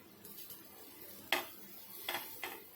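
A spoon stirring and scraping dry sukha pithla, a gram-flour dish, in a pan, a few sharp clicks and scrapes spaced apart, faint and close, with no talking.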